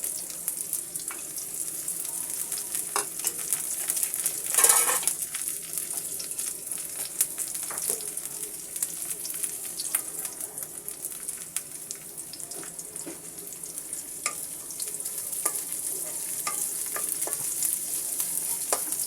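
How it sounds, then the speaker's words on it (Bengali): Onion frying in a pan until brown for beef bhuna khichuri, a steady close sizzle with intermittent stirring scrapes and one louder burst partway through, no voices. "এবার পেঁয়াজটাকে আমি ব্রাউন কালার করে ভেজে নেব।"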